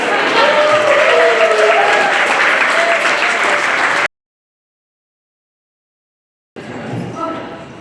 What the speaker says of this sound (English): Thank you so much for that smattering of applause.